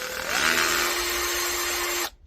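A power drill with a small bit spins up and whirs steadily, backing tiny screws out of a salvaged modem power adapter before the motor cuts off abruptly; close, loud, and with no talk.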